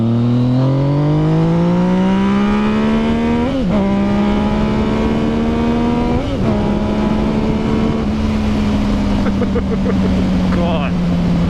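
A 2016 Yamaha FZ-09 motorcycle engine hums loud and close while riding, with its pitch climbing and dipping through several gear changes and wind rushing past. Speech-like sound appears to be present at times.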